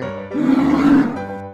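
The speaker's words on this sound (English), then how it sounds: "Bear." A bear gives one loud, close, rumbling roar that swells and then fades over about a second, with a low, growly grain and no voices.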